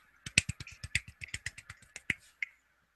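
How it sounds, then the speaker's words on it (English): A soft golf clap, a run of about a dozen light, quick claps with uneven spacing, close and fairly quiet, with no talking. "That was me golf clapping."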